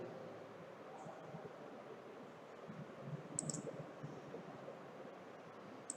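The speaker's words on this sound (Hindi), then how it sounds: "इसको हम ओके पे क्लिक कर देते हैं" A couple of faint, sharp computer mouse clicks on an OK button while a macro is being named, set against a low, steady room hiss with no talking.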